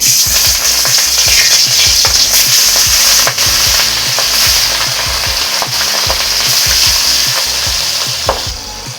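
Pieces of large silver carp frying in hot oil, a loud, steady sizzle with repeated low scraping knocks from a spatula stirring throughout, no voices.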